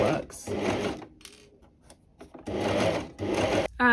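A sewing machine stitches jersey knit fabric in two loud, steady bursts, pausing briefly between runs with lighter handling noise in the gap.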